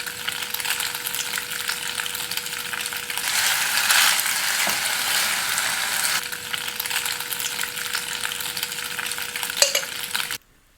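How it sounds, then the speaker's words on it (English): Garlic and boiled macaroni frying in olive oil in a pot, a continuous sizzle under scraping stirs and a steady tonal hum, ending with a sudden cut to silence. "I will add some olive oil to a pot and then add some chopped garlic and the boiled macaroni"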